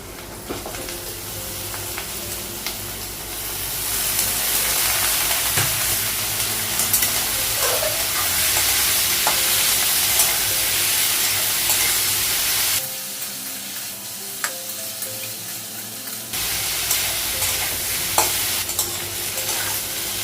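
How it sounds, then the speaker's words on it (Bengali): Potatoes and pointed gourd fry in a pan with a steady, loud sizzle and occasional stirring scrapes, the hiss briefly dropping before resuming strongly. "ভাজাবো আলু আর পটলটা ভালো হয়ে গেছে"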